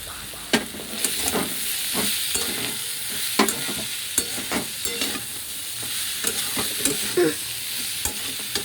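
Banana flower is stir-fried with prawns and garam masala in a hot pan: a continuous loud sizzle with repeated scraping stirs of the spatula at a steady, irregular rhythm, close up and with no talk.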